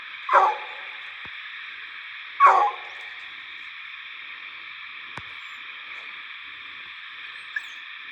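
An eight-month-old coonhound pup bays twice at a treed raccoon during a night hunt, the calls sounding distant and a couple of seconds apart. A steady chorus of night insects runs underneath throughout.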